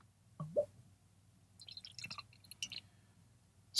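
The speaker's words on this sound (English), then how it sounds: "It's pouring out nice and golden." Bell's Hopsoulution double IPA beer is poured into a glass with quiet close drips, glugs and wet splashing plops, faint and irregular over near silence.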